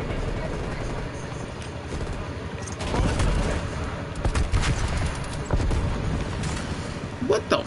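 Sentry gun fire in a Call of Duty: Black Ops Cold War match, dense crackling bursts with heavy low rumble and sharp transients from about three seconds onward, mixed into busy game noise with talk.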